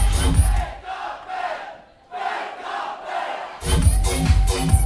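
A concert crowd at a night event in Bydgoszcz roars and shouts in loud surging waves, dipping briefly before swelling again.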